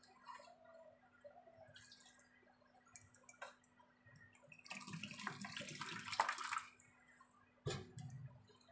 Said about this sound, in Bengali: এই বাটিটা ধুয়ে একটু জল দেবো